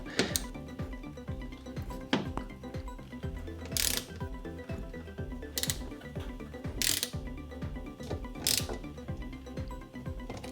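Ratchet driving Torx 27 bolts on a 2017 BMW i3 bumper, rapid repeated clicking bursts up close with a few sharp metallic clanks between runs, no talk.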